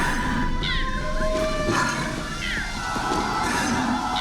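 A cat meows repeatedly in the video game Honkai Star Rail, its short rising calls sounding over a busy, continuous game backdrop with music.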